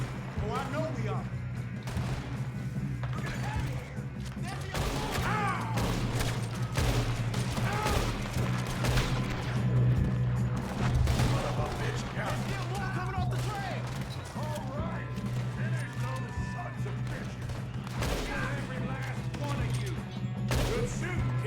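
Continuous gunfire from a Red Dead Redemption 2 shootout: dense, overlapping shots and ricochets pop near and far throughout, set over a steady low hum with voices calling out at times.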